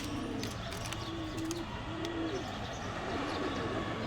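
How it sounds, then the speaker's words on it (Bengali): Dhakaiya Giribaz pigeons coo softly in low, repeated throaty bursts, faint against a steady hiss of background noise. "এগুলো ঢাকায়া কবুতর, ঢাকায়া গিরিবাজ"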